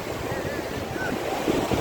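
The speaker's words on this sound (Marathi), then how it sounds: "खूप मोठमोठ्या लाटा आहेत" Big sea waves crash and wash steadily onto a Konkan beach, a continuous broad surf roar with some wind noise close to the microphone.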